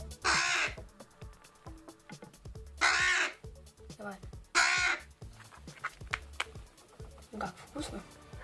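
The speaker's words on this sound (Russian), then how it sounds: "она также выходила и ворону, которая, когда подросла, оказалась грачом." A hand-raised rook caws in several loud, harsh bursts spaced a couple of seconds apart, close by, with clicking and rustling between the calls.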